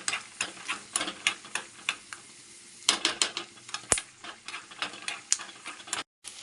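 Peanuts and garlic frying in a pan, heard as a rapid run of sharp ticks and clacks from a spatula stirring against the metal, with a brief pause and a louder knock midway.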